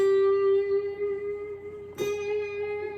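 A sustained guitar note wavers and settles slightly above its starting pitch, giving a whiny, sharp sound; a second note is struck midway and rings on alone with no talk.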